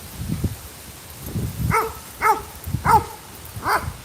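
Two dogs in a suburban yard let out a string of medium-pitched barks and yips, several distinct barks a fraction of a second apart, fairly close and loud with light background noise.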